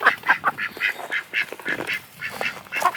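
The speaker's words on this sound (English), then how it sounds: "Duck alert, duck alert." A duck quacks loudly and repeatedly indoors, a steady run of close, nasal calls one after another with little pause.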